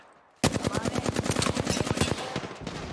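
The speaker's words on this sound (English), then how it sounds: "Opening fire." A sudden burst of rapid automatic gunfire in a first-person shooter video game, loud and close, firing in a fast even rhythm for about two seconds before cutting off.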